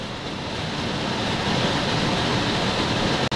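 A budget kitchen range hood fan at its highest speed, measured at about 73 decibels, gives a constant loud rushing roar close by, cut off for an instant near the end.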